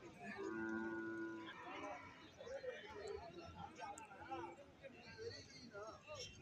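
A buffalo calf moos loudly and drawn-out near the start, followed by a busy crowd chattering and calling across a noisy buffalo market in Tamil Nadu.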